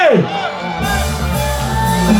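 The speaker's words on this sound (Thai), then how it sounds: "เสียงปรบมือให้กับดาวช้างแคมป์ค่มคืนนี้อีกหนึ่งที" A crowd at a campfire star contest at a camp on a Saturday night cheers and whoops loudly, with shouts rising over a continuous roar of voices.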